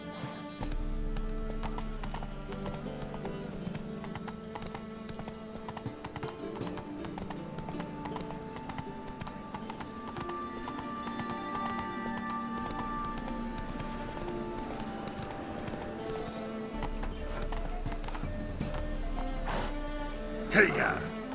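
Roach the horse gallops in The Witcher 3, hooves clip-clopping in a steady fast rhythm close by, with background music and a rider urging the horse on.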